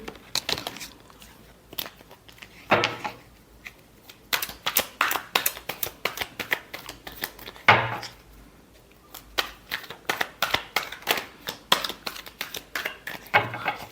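Tarot cards being shuffled during a love reading, with dense bursts of crisp riffling and slapping clicks coming in quick irregular clusters, close and moderately loud, with no talking.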